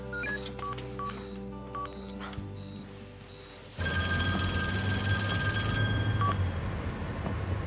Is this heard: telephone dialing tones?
yes